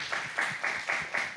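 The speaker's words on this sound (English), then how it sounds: "would you all give yourselves a round of applause" Graduates at a spring graduation ceremony clap for themselves, heard as a fairly quiet, rhythmic run of about five evenly spaced claps.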